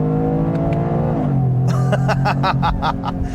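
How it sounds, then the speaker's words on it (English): A 2025 Toyota GR Corolla three-cylinder engine with automatic transmission revs up hard, a steady drone rising then climbing sharply in pitch with gear-like pulses toward the end. "The engine also sounds good. It revs freely"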